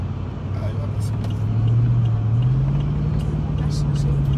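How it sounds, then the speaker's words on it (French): A car drives past nearby, its engine rumbling steadily and its pitch rising slightly as it approaches, heard beneath ongoing conversation. "C'est ta voiture qui vient de passer là."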